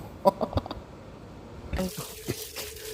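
Strong water spray bursting out after an attempt to cover it during a Sunday work duty in Thailand, starting as a sudden loud hiss and continuing as a steady rushing spray with a few knocks and splashes.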